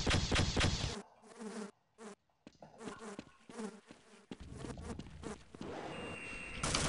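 Swarming buzz of homing bees fired from the Hivehand weapon in Half-Life, rising in dense bursts with short gaps, fairly loud and close, mixed with game effects.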